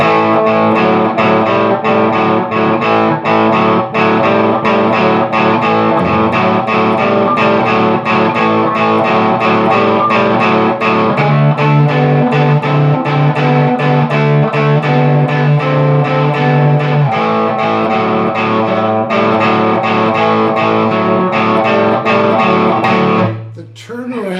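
A loud, gritty electric guitar plays a steady repeating riff with heavy distortion, chugging continuously before stopping abruptly at the end.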